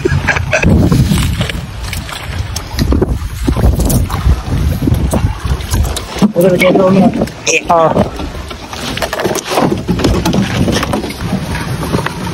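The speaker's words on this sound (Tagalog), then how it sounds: "in-start na ang bangka" A lake boat's motor starts and drones continuously under heavy wind noise, steady and loud throughout, with people talking over it.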